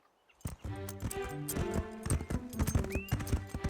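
Horses' hooves clip-clopping on a trail ride in a cartoon, a steady run of close hoofbeats with a horse whinnying partway through, set against background music and no talking.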